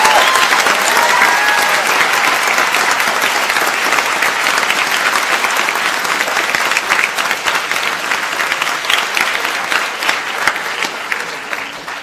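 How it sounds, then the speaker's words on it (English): Sustained applause from an audience at a school event connected with space, steady and loud throughout with no speech, slowly tapering near the end. "Mark, we would like to give you a huge round of applause for doing this."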